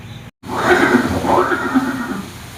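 A horse neighs once in a loud, drawn-out whinny, used as a sound effect for a historical scene of Maharana Pratap and his horse Chetak at Haldighati. It starts after a brief silent gap and sounds alone.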